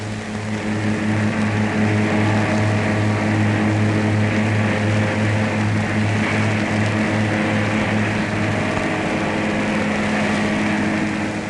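A loud, steady engine drone with strong humming tones runs continuously and close on a 1954 Peugeot factory test bench at Sochaux, unbroken for the whole stretch with no voices.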